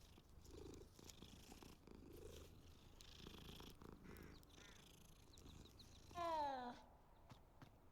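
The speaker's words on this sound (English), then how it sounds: "Cat." A cat in Hogwarts Legacy purrs in a soft, low, rhythmic rumble, close but quiet, ending in a brief louder meow near the close.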